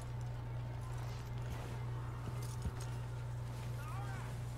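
Horse hooves clop at a walk in Red Dead Redemption 2, a steady soft rhythm sitting under a constant low hum and game ambience, fairly faint throughout.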